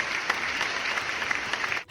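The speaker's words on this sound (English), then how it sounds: "Can we get a applause?" A short burst of crowd applause, dense overlapping claps at steady volume for about two seconds before cutting off abruptly.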